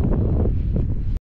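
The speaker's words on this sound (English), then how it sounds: "The wind is too strong, it's blowing away." Strong wind buffets the microphone on a mountain tour in the Kanuku Mountains, a loud continuous rumbling roar of gusts with no talk, cutting off abruptly.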